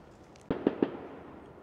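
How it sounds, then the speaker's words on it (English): Three quick pops of distant fireworks crackle in a rapid sequence, faint against a quiet night-time street background in South Shore, Blackpool. "I can hear fireworks. Someone's setting fireworks off."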